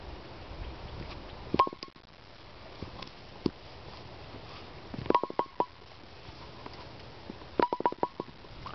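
An autographed, somewhat worn Qubica AMF Amflite 2 bowling pin gets tapped in a sound test: three separate clusters of sharp knocks with a short ringing tone, fairly close and alone over a low background hum.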